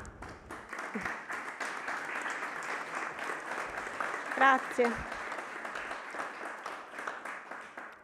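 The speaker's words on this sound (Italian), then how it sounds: "applauso" Applause at an academic year inauguration ceremony, with steady clapping from a seated audience filling the hall at moderate volume, and a voice speaking briefly partway through.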